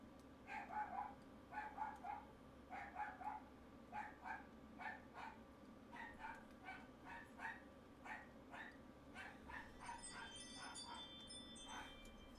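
A dog barks in short repeated bursts at a steady rhythm, picked up through a Ring doorbell, with a constant low hum and some faint high chirps near the end.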